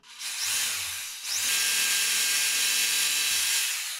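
A power drill whirs loudly in two bursts, the second longer and steadier, as screws are driven close by into a wall cleat on a hollow cinder block wall.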